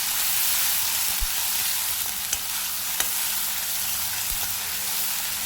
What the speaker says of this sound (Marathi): आता आपल्याला ही टॅमॅटोची ग्रेव्ही आहे ना ती पूर्ण तेल सुटेपर्यंत शिजवून घ्यायची आहे